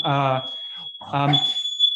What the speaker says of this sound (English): Sorry, I have a buzzer going off.